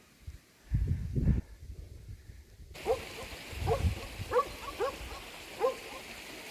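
A hunting dog in training barks and yips repeatedly at a moderate distance while tracking wild boar in thorny Bosnian brush, in short irregular bursts, with a louder rumble of handling noise near the start.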